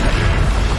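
Bombarda spell blast in Hogwarts Legacy: a dense, continuous booming explosion that fills the short moment, loud and close with a rumbling low end.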